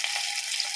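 Garlic frying in ghee and groundnut oil, a steady close hissing sizzle with faint pops, continuous and fairly loud.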